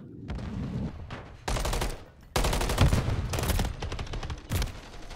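Bursts of rapid gunfire from a Renetti pistol in a first-person shooter game, several loud, tight volleys separated by short pauses, with no talking.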